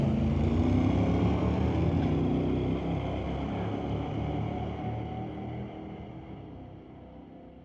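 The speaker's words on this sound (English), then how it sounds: "It's Ken Ritchie in the TCS side 85 Blazer, going against Rex Jessamine in the 78 Monte Carlo" Drag race between an '85 Chevrolet Blazer and a '78 Monte Carlo, with a loud, sustained engine roar close by that slowly fades as the cars pull away down the strip.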